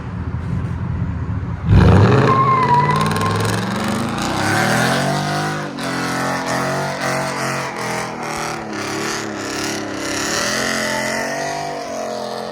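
A 2017 Ford F-150 with a 5.0L Coyote V8 and straight pipes (true dual 2.5-inch exhaust with an X-pipe and no muffler) fires up with a loud bark, then idles and revs in rising and falling swells, close and alone.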